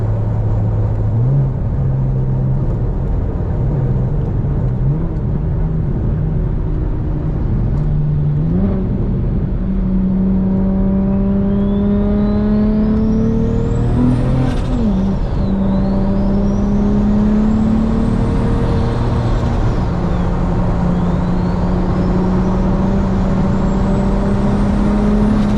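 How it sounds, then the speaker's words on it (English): A BMW 335i with a big turbo and a 3.5-inch exhaust is driven hard, its engine revving up through several gear pulls with rising whine and turbo spool, then fluttering as the throttle lifts, loud and close. "Let's get a couple turbo flutters in."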